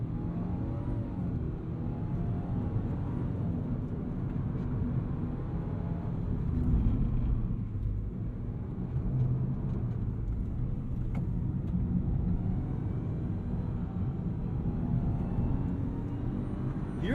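Subaru WRX GT engine heard from inside the cabin while driving, a low steady rumble with road noise that swells slightly as revs climb, fairly quiet and continuous, no talking.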